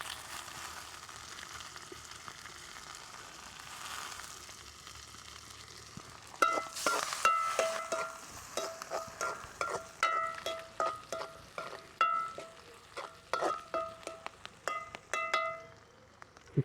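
Prawn curry masala with curry leaves sautés in a pan with a steady close sizzle, then a long run of rhythmic scraping stir strokes takes over for the second half, with no one speaking.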